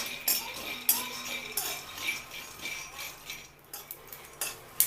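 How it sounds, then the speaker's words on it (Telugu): Peanuts roast in a pan on a stove, stirred with a spoon, giving repeated light scraping and clinking knocks at an uneven pace, fairly quiet and close. "స్టవ్ మీద ఒక బాండ్లీ పెట్టుకొని దాంట్లో ఈ పల్లీలను వేసుకొని వేయించుకోవాలి"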